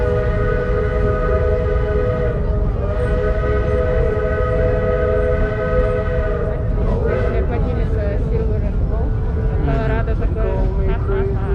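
Georgetown Loop Railroad train whistle blowing a long sustained tone over loud rumbling rail and engine noise, with a voice talking underneath.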